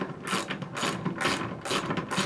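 Open-end wrench working bench seat bolts on a 1960s Chevrolet C10 pickup, giving repeated bursts of metallic ratcheting clicks in an uneven rhythm, close and fairly loud with no talking.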